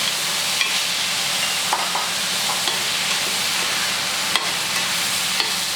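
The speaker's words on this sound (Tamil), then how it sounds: "வெங்காயம் தக்காளி வதங்கிட்டு இருக்குங்க" Chopped onions and tomatoes sautéing in a pan for a crab kuzhambu, a steady continuous sizzle with occasional sharp clicks of a spoon stirring, close and fairly loud with no talking.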